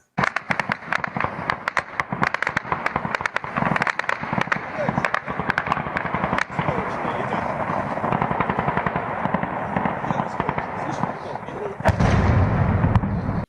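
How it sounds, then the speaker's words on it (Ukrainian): Rapid sharp bangs and crackling blasts from a night drone strike on an aviation center in Voronezh burst repeatedly, some distant and some nearer, with a heavier rumbling blast near the end. "як цієї ночі е, бахнуло по авіацентру в Вороніжі"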